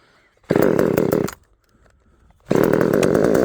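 A one-handed petrol chainsaw kicks into a loud, buzzing run, cuts out after about a second, then is started again and keeps running close by.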